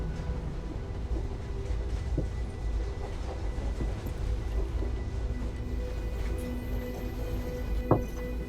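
A tram runs in the video game Syberia: The World Before, a steady rumbling rail drone with faint clicks and a brief squeal near the end, heard alone.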